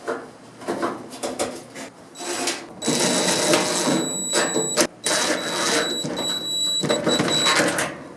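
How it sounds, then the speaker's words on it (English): Screws driven in to mount a dryer heating element, heard as bursts of whirring driver noise with clicks and rattling of metal parts, stopping and restarting several times, close by. "And put the two screws in."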